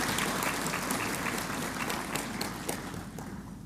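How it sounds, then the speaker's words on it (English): Sustained applause fills a conference hall as the audience at an opening ceremony of a ministers' conference claps steadily throughout, dense and fairly loud, tapering slightly toward the end. "So I would like to ask for a round of applause for their presence."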